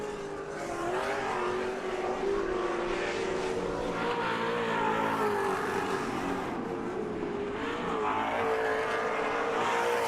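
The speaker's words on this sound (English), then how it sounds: "It sounds like the motor is hurt in our leader." An off-road race truck engine at a TORC Sportsman race in Crandon drones loudly and steadily, its pitch wavering as it works around the track, with the motor reportedly damaged and running rough.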